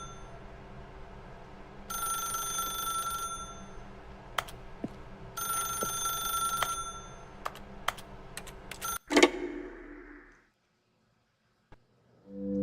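A telephone rings twice in The Stanley Parable video game, each ring a sustained electronic trill in an office setting, with scattered keyboard typing and clicks, then a thump and near silence.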